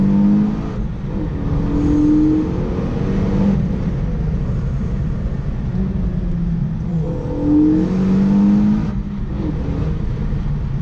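A Renault Megane 3 RS Trophy fitted with an Akrapovic exhaust, in its most aggressive RS mode, held at a steady loud rev with short rises in pitch, a continuous close engine drone with no pauses.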